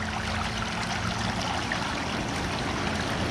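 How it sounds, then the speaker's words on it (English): Water churning and bubbling from air valve jets in a hot tub at a spa, a steady, dense wash of rushing, trickling water filling the whole stretch without pause, close to the listener and fairly loud. "See, now you got bubbles."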